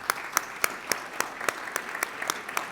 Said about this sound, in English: Round of applause for Mr. Douthit.